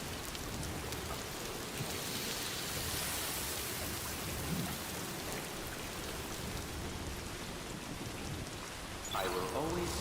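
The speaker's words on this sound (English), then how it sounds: "It's showing me rain." Steady, dense video-game rainfall in Death Stranding 2 patters down continuously, a broad hiss of drops on surfaces that holds level throughout, with a brief brighter splash near the end.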